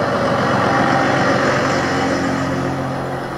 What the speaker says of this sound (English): Different truck, same sound.